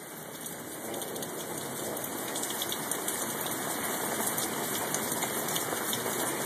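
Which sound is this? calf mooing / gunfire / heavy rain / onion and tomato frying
heavy rain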